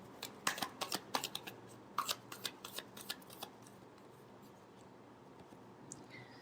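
Tarot cards being shuffled up close in a quiet room, a rapid string of crisp riffling flicks for about three seconds before the sound trails off into faint handling.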